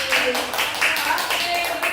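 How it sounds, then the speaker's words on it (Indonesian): Small group of children clapping their hands in a classroom, a few loose rhythmic bursts of claps close by, with voices speaking over them. "Tepuk tangan buat Rais."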